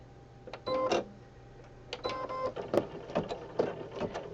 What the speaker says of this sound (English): place it back in the machine and let it go around the outside